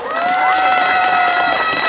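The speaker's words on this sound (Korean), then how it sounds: "다시 한번 우리 큰 박수 보내주시면 감사하겠습니다." Crowd cheering and applause at a Pyeongtaek Nongak farmers' music performance by a preservation society troupe including children, at a traditional music festival in Yeongdong; a dense, steady roar of voices and clapping with a high shout rising above it, no pause.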